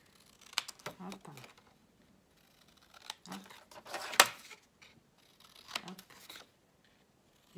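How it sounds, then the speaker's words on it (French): A pair of scissors trims paper corners while a junk journal cover is being made, giving a few separate close snips and crisp cuts with quiet pauses between them and brief soft speech. "Donc je prends ma paire de ciseaux. Hop. Je dégage les angles."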